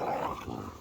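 A low, rough growl from dogs fighting, brief and fairly quiet, with a scuffling snarl that fades toward the end.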